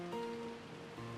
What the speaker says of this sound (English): The inside of the room was commanded by the stillness of the sound of the rain.